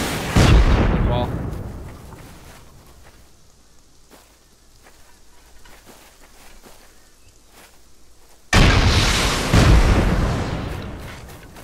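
Rocket blasts strike a base wall in a raid on a honeycomb base in a survival video game, two heavy, loud explosions about eight seconds apart, with quieter crackling and faint thuds in between.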